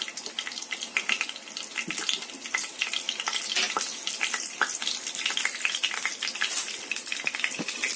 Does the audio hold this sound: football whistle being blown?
no